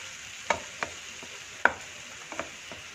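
Vanpayar (red cowpea) curry base frying in a pan without coconut, with a handful of sharp scraping stir strokes over a faint steady sizzle, close and fairly quiet, no talk.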